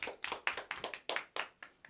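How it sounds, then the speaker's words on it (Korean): A Bible study group claps together in an even, quick rhythm, about eight crisp, close claps in under two seconds, quiet and unaccompanied. "박수 치고 시작하겠습니다"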